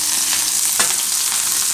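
Loud, constant sizzle as chilies and asafoetida hit hot oil in a pan, a bright close hiss with one brief crackling burst partway through.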